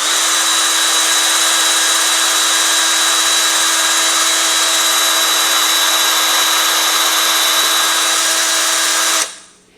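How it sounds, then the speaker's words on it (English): A power drill whirs steadily at high speed, driving a bit into the flint striking mechanism of a vintage Ritepoint lighter, loud and close for nearly ten seconds before cutting off abruptly. "clean the end of that bit and grab our power drill,"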